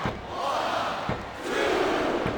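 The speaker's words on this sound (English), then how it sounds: "It sounds like this capacity crowd has something on their minds, Taz." Arena crowd in the WWE SmackDown vs. RAW 2007 video game roars steadily during an Ironman wrestling match, a dense continuous cheer that swells slightly, with no commentary over it.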